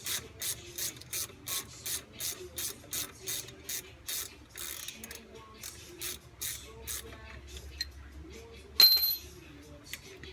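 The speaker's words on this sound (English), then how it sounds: "Take out the alignment bolts and pins." A ratchet wrench clicks in a steady series of bursts, about a dozen in a row, while a caliper alignment bolt is removed from the front brakes of a 2004 Chevy Impala. A brief metallic clink follows near the end.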